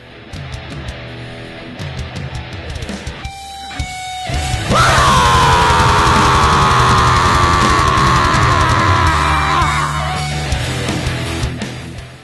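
A person lets out a long, loud, sustained scream lasting several seconds, preceded by shorter noisy sounds and tailing off near the end.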